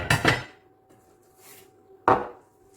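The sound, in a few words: handling small teaspoons from a shopping haul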